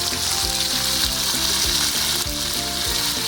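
Green chillies hit a hot karahi over a raised flame and crackle with a loud, dense sizzle. A steady pulse of low bumps from stirring or shaking runs beneath it, close by and without any voices.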